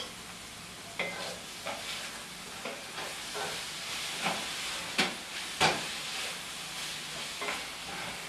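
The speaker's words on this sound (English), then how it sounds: "Well, I'm going to stir my sausage." Sausage sizzling in a little olive oil in a pan, a soft steady fry hiss broken by several scraping stirs of a utensil at uneven intervals, close and fairly quiet.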